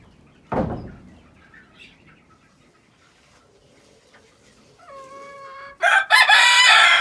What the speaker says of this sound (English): Come on, rooster. Crow for me.